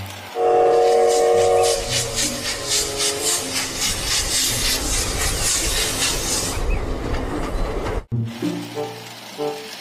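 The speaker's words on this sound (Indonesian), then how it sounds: "Wah, kereta api Thomas nih berwarna merah." A red Thomas toy train plays electronic train sounds: a bright horn-like toot, then a long stretch of chugging rail noise with whistle tones, loud and close, ending in a sharp cutoff and softer mechanical clatter.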